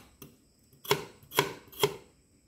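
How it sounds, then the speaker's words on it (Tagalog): Onion and ginger being cut with a knife on a board, three crisp, evenly spaced chops after a faint tap, close and clear against a quiet background, no voices. "hiwa tayo ng sibuyas at saka so, may tayo, may ginger"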